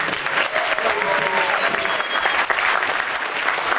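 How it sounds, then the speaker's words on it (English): An audience applauds steadily, a dense wash of clapping hands that holds at an even level throughout. "so can we have a round of applause for them?"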